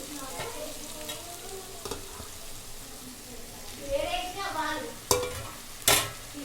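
A potato and brinjal curry fries in a pan as tomatoes are stirred in, giving a soft sizzle with scraping stir strokes. Brief talking comes through, and two sharp utensil clanks sound near the end.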